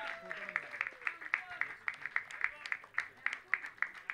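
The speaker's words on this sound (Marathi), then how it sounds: "जोरदार टाळ्या झाल्या पाहिजेत" Faint, steady rhythmic clapping from a distant crowd at a cricket league prize ceremony, with a voice speaking faintly underneath.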